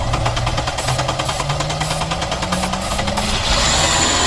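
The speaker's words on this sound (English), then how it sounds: "Just want you to hear that the engine is not knocking." A rebuilt supercharged AMG car, bought wrecked, idles with a steady close rumble and fast rhythmic pulsing, a low whine rising slowly through it and a brief shift in tone near the end, with no voices.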